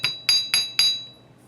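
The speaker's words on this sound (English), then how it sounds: "Then I'm going to hammer the loops on top here" Four sharp, ringing metallic taps from a hammer striking wire loops of a focal necklace, evenly spaced and close, each hit leaving a brief bright ring before fading.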